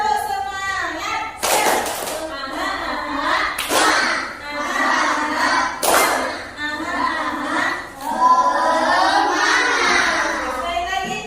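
Schoolchildren in an Indonesian classroom performing the 'tepuk semangat' clapping routine, with bursts of rhythmic group claps and thumps mixed with a teacher's voice and children chanting.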